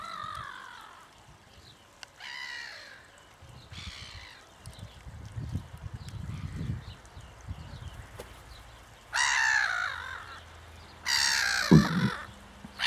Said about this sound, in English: the noisy gulls, as I thought, may not be gulls at all, but fulmar